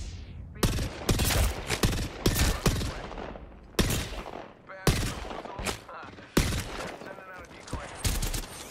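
Bursts of gunfire from the battle royale game Apex Legends, several rapid automatic volleys and single loud shots with pauses between, close and punchy, with players talking at times.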